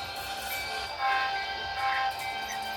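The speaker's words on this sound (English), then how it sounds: "Got a coupling. That means the train is ready to be outbound." A train couples its cars together for an outbound run. The clanks of the coupling jolt land near 1 and 2 seconds, over a steady rail rumble and sustained tonal whining. No one speaks.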